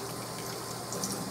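Water runs from a kitchen sink tap into a container, a quiet steady hiss of flowing water without any talk.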